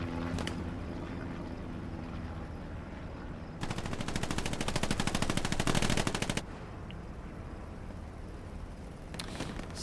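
An M3 Stuart Honey light tank in the Hell Let Loose game on the El Alamein desert map: a steady engine rumble with a louder, sustained burst of rapid machine-gun fire in the middle and faint shots near the end, no talk.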